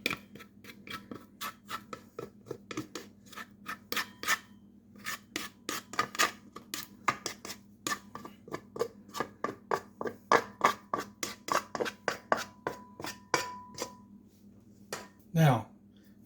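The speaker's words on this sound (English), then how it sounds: "deposit the dough out on the breadboard. And do a first knead by lifting and folding" Sourdough bread dough being lifted and folded on a floured breadboard during a first knead, producing steady, rhythmic soft slaps and patting sounds close up, with someone talking over them.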